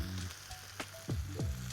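Thai chicken curry sauce bubbles and reduces in a pan, a soft low sizzle with a few sharp crackles and small pops, close but faint, with no talking.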